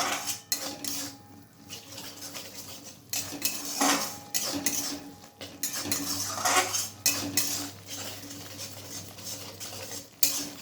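A metal spoon scrapes and clinks against a cooking pan as spices are stirred for a cabbage curry, a steady run of close scraping strokes with brief pauses and a faint low hum beneath.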